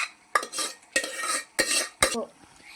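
Spoon stirring gongura leaves into a boiler chicken curry in a pot, four distinct scraping strokes with short pauses between them, close and fairly quiet with no talking.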